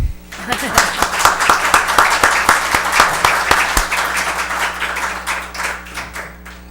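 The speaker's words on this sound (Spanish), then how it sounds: "Un aplauso." Audience applause after a lecture on border walls, many hands clapping steadily and loudly, with a few sharp nearby claps standing out, gradually thinning toward the end.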